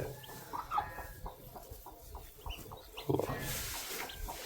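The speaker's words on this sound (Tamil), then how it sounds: "அந்த கருங்கோழி குஞ்சுலாம் பொறிச்சிருக்க" Black hens (karunkozhi) on a farm cluck in short, irregular bursts, close and clear, with little talk, shortly after their chicks have hatched.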